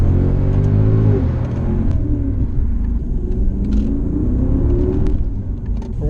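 A car engine rumbles loudly nearby, its pitch rising and falling as it revs and accelerates, with a deep throaty tone throughout.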